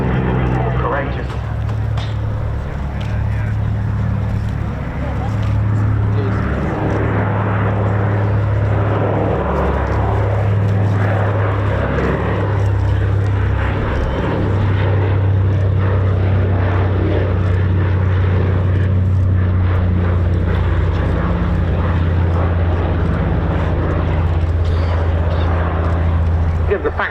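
A Consolidated Catalina flying boat's propeller engines at the RAF Cosford air show, a steady loud droning hum that holds throughout while a commentator talks over it.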